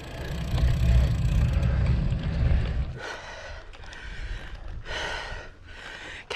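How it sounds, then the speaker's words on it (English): A cyclist riding uphill on a countryside ride in Dorset breathes heavily, with wind and road rumble first, then three or four loud, close gasping exhales in a labored rhythm. "Don't doubt the heavier breathing."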